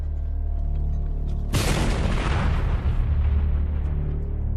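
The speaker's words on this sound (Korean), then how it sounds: "this would explode a large piece of bamboo stuffed full of gunpowder right underneath the enemy soldiers' feet" A large bamboo tube packed with gunpowder detonates as a landmine: a single loud, close boom erupts out of a low steady rumble, then trails off into a long, gradually fading roar of debris and echo.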